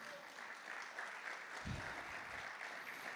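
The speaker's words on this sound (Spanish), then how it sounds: "Dale un aplauso al Señor." A church congregation applauds during a Spanish-language sermon, a steady wash of many hands clapping throughout, moderately distant and even, with no talk over it.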